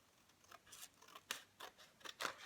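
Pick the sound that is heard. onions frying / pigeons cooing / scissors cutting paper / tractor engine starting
scissors cutting paper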